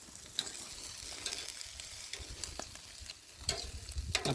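Onions frying in a smoky kadhai, a faint crackling sizzle with scattered scrapes and stirring clicks, heard close and alone.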